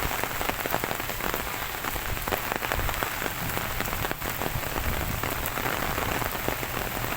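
Heavy storm rain pours down steadily, a dense, loud hiss of drops drumming on a hard surface close by, with no voices.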